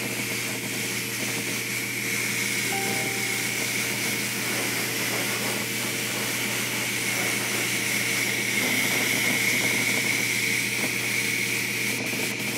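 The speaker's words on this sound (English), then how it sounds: "This airbrush is giving me such fits. Every time I try to go paint, it just clogs up." An airbrush sprays paint onto a custom quarter-scale Hulk figure with a steady, close airy hiss that holds evenly from start to finish, with no talk.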